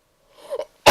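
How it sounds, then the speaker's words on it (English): A single human sneeze: a short, quick intake of breath, then a sharp, loud burst of air at the end, with no speech. "I'm gonna sneeze."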